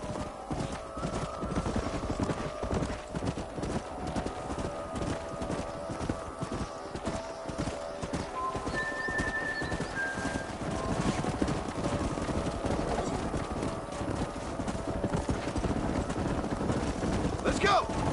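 Horses trot with a steady, continuous clip-clop of hooves in the video game Red Dead Redemption, with a neigh heard partway through over a constant rumbling backdrop.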